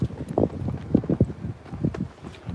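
Wind buffets an outdoor microphone on a windy walk in irregular low, rumbling gusts and thumps, fairly close and uneven, without talk.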